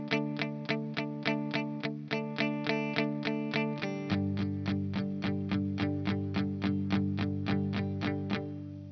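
Electric guitar with distortion plays a steady palm-muted chord rhythm, tight evenly spaced strums shifting to a lower chord midway, loud and close with no talking.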